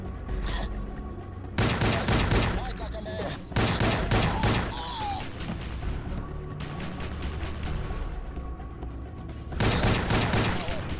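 Gunfire in the 2006 video game Rogue Trooper: loud bursts of rapid automatic fire in several separate volleys, close and dense, with a low background hum between bursts.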